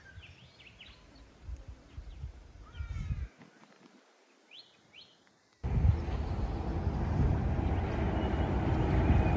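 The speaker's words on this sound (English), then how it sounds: "Listen to the birds." Birds chirping and trilling beside a river in the Australian bush, several short bright calls that are clear while the background drops away, then masked by a louder broadband rumble.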